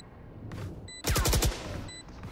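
A Bucky shotgun in Valorant fires one sharp, loud burst of pellets that rings out briefly alone, with quieter game ambience before and after.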